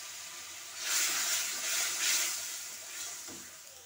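Water splashed from a rinsed grinder jar into a pan of salted spice paste being fried for a small gabu chuno fish curry, giving a loud hissing, steaming burst that swells twice and then fades, with no talking.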